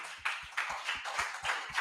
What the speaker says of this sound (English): Round of applause for the guys.